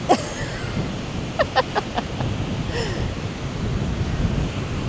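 Steady surf and gusting wind roar across the whole stretch of a busy beach in storm aftermath, with a few faint distant cries and clicks rising briefly above the wash.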